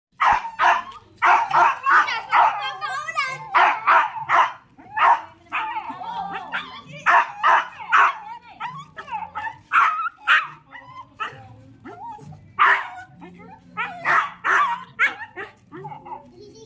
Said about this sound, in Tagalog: Daming aso ah.